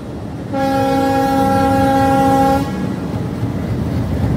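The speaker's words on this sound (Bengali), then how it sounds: "আমাদের ট্রেনটিকে এখন 1 নম্বর রেলপথে 1 নম্বর প্ল্যাটফর্মে দেওয়া হবে।" A commuter train's horn sounds one long, loud, steady blast over the rumble of the train running on the track near Padma station in Bangladesh, then the rolling noise continues alone.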